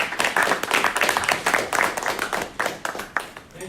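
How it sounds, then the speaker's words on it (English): Steady applause from a crowd, dense overlapping claps sustained throughout at a fairly loud level. "So please give a round of applause to Hamad."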